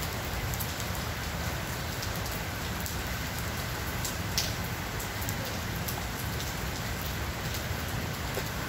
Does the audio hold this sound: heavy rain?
yes